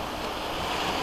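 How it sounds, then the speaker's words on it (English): Surf rolling onto El Faro beach with steady wind buffeting the microphone, forming a continuous, close wash of broadband noise with no voices. "here's the beach"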